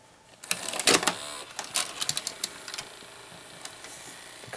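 A 1990 GE 2-head VHS VCR whirs and clicks as its gears load and thread a tape, a quick burst of mechanical clatter and ticks followed by a softer steady motor hum, close up with no talking.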